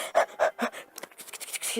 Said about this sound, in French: des respirations, des chiens qui aboient